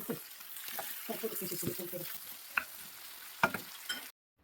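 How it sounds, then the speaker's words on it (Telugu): Brinjal and tomato pieces stir-frying in a pan, soft sizzling under busy stirring and a couple of sharp utensil knocks, close and fairly quiet before cutting off abruptly. "ఇప్పుడు ఇందులో టమాటో ముక్కలు కూడా వేసుకుని రెండు నిమిషాలు కలుపుకోవాలి"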